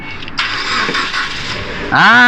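A Proton Saga FLX car engine cranks with a steady, loud whir, then catches and roars up at the end, close to the listener.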